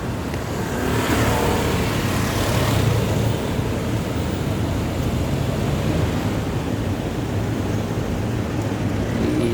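A motorcycle engine runs steadily on a road with traffic around it, a continuous loud droning rumble with a slight rise in revs near the start.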